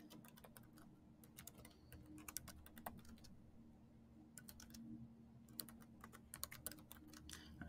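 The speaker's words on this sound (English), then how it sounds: "Let's go ahead and type this bit first." Steady typing on a computer keyboard fills the space with quick, close key clicks. The keystrokes come in bursts with short pauses between them.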